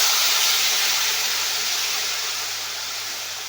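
Syrup hits hot caramelized semolina halva in a pan and sets off a loud, steady sizzling hiss that eases slightly over a few seconds.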